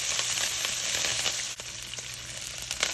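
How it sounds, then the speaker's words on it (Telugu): Coriander, mint, curry leaves and green chillies fry in oil for a lotus seed curry gravy, producing a loud, dense sizzle with crackles and a brief dip midway before the steady frying hiss resumes. "కొంచెం కొత్తిమీర కొంచెం పుదీనా కరివేపాకు పచ్చిమిరపకాయలు వేసి కొద్దిగా వేయించండి"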